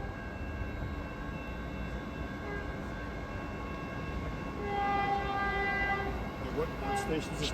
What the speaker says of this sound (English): we're going to be riding on this train all the way to 4th and King Street Station